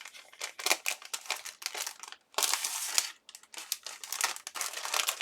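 Plastic bag crinkling as mixed media stamps are unpacked, a close run of sharp crackling rustles in uneven bursts with brief pauses between handlings.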